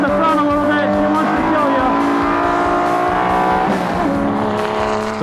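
Fast home-built 'Poor Man's Lotus' car driving hard, its engine note rising and falling through gear changes with tires squealing, loud and close, with a voice speaking over it.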